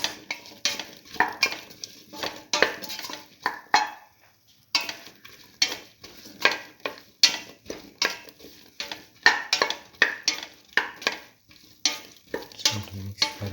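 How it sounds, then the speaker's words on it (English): Eggplant and split mung beans get stirred in a pan, a utensil scraping and clinking in repeated rhythmic strokes with a faint sizzle, close and clear with no talking. "Salt and mix thoroughly."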